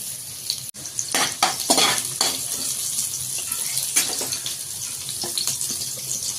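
Green chillies dropped into reheated oil left over from frying fish, sizzling and crackling close up with stirring clatter and a steady hiss.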